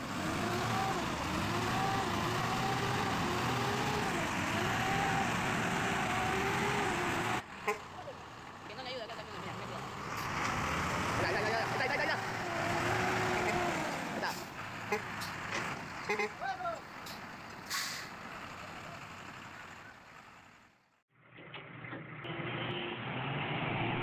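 A large truck strains to tow a stuck truck free through thick mud on rural roads, heavy engines roaring and rumbling at length with shifting load, a brief drop near the end, and a voice talking over much of it.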